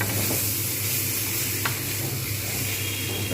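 Fried pointed gourd pieces being stirred into a simmering pumpkin and potato curry, a steady close sizzle with soft scraping of a spoon through the pan and one brief sharp clink midway.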